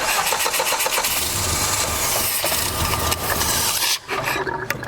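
A 1989 Dodge Daytona cranks and sputters as it tries to catch, with rapid rhythmic starter churning close by and a brief dip near the end before the noise resumes.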